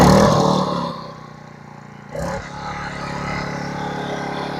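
An AIVOLT 1600W inverter generator starts after a pull of the cord, with a short rattling burst, then settles into a steady, even engine hum at close range, with no voice over it.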